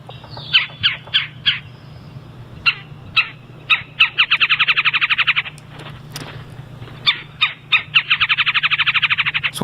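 Recorded woodpecker calling in short sharp bursts and quick chattering rattles, loud and close, repeating over several seconds against a low background hum.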